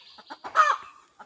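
Hens cluck in short bursts with one louder, drawn-out call in the middle, close by as they are hand-fed.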